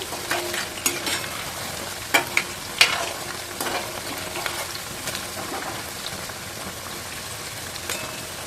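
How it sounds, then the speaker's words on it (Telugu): Chana dal flour snacks deep fry in hot oil with a steady crackling sizzle. Sharper pops and occasional stirring clatter rise above the continuous bubbling at close range. "ప్రతి ఒక్కటి కూడా బాగా వేగుతుంది."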